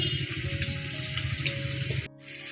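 Rohu fish belly pieces sizzle and crackle steadily in hot oil for about two seconds, a dense close frying hiss, then cut off abruptly into a quieter, lower background.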